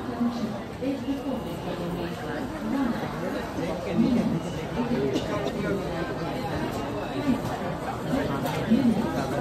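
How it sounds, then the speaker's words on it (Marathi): A dense crowd leaving Prayagraj railway station after a train arrives, with steady close babble of many voices and footsteps, continuous and fairly loud throughout. "स्टेशन मधून बाहेर निघायला गर्दी बघा"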